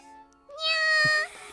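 A cat meows in The Fruit of Grisaia visual novel game, one drawn-out, fairly loud meow in the middle, with a soft musical tone underneath.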